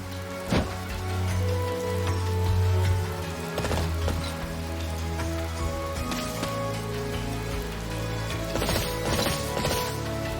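Steady rain falls in the video game Fire Emblem: Three Houses, a continuous hiss and patter layered under sustained music and occasional sharp impacts, with no talking.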